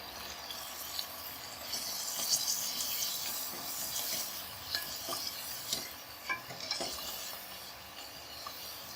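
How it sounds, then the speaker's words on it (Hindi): Mutton fries in korma masala with a soft sizzle while a spoon stirs and scrapes the pan in repeated strokes, quiet and close, with no voices. "और 5 से 6 मिनट इनको फ्राई करेंगे, गोश्त को"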